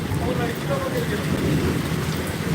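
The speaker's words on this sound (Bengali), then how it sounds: "কলকাতাতেও প্রচণ্ড বৃষ্টি হচ্ছে" Heavy rain falling in Kolkata, a steady, dense wash of close rainfall that holds constant throughout with no pauses.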